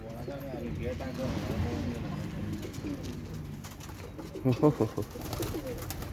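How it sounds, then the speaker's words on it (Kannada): Soft pigeon coos repeat in the background while people talk nearby, with a short burst of louder calls toward the end. "ಪಾರಿವಾಳ ಪಾರಿವಾಳ"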